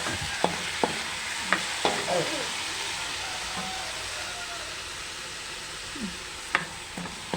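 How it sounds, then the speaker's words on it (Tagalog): Chicken sautés with tomatoes in a pan under a steady moderate sizzle, punctuated by a handful of sharp spatula clacks and scrapes against the pan at uneven intervals, close up, with no talking. "igisa muna natin ito na ating chicken. Sabay na natin sa pagpapalambot din sa kamatis."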